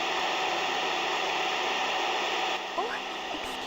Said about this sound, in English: Sounds like a vacuum cleaner.